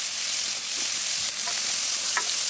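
String beans with fresh shrimp paste (alamang) sizzle steadily in a hot pan while being stirred, giving a loud, close hiss with faint scraping touches and no voices.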